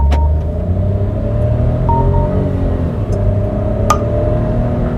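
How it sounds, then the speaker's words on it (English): Peugeot 3008 in sports mode accelerates hard from a standstill to sixty, a loud, steady engine drone with rising harmonic tones heard from inside the cabin. "Now let's see how this car performs in a 0 to 60 test."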